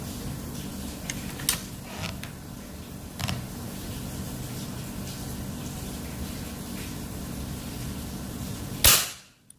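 A few faint sharp cracks over steady background hiss, then one loud close snap from a 3500 psi PCP air rifle near the end that cuts off abruptly.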